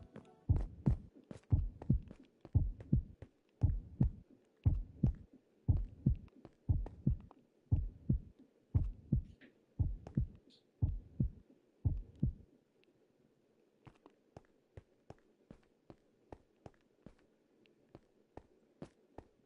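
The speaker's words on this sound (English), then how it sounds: "Anytime you hear that heart beating, he's around." Heartbeat in Minecraft signalling a nearby enemy, a loud, steady thumping pulse of paired beats repeating for about twelve seconds, then fading to faint softer thumps over a low hum.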